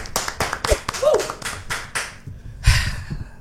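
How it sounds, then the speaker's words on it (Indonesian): A small audience at a mobile game development talk claps to welcome guests, a short burst of close, uneven claps, followed after a brief pause by a louder one with a voice mixed in. "Tepuk tangan semuanya."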